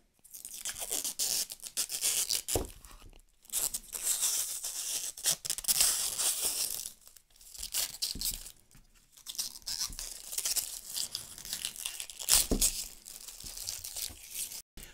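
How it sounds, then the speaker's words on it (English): Protective plastic film being peeled off a guitar pickguard, heard close as a run of crackling, tearing and crinkling bursts with short pauses between pulls, no talking. "So let's remove the plastic."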